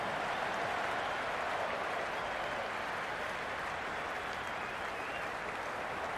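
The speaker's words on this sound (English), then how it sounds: "It's the most enthusiastic crowd you could ever see right now. There's a buzz, a real buzz coming from the stands." A stadium crowd at a video game cricket match gives sustained, even applause and cheering, a dense steady wash of clapping heard from a distance with no talk.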